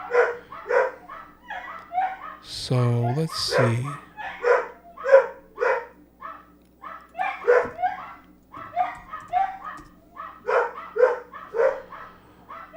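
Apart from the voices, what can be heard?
dogs barking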